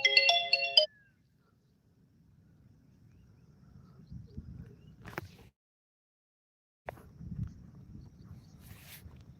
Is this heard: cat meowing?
no